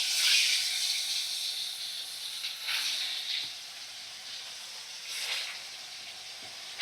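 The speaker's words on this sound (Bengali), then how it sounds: "প্রত্যেকটা মাছ আমি কড়ার মধ্যে দিয়ে দিচ্ছি" Fish frying in hot white oil in a wok, a steady close sizzle and hiss with brief louder spits, with no one talking.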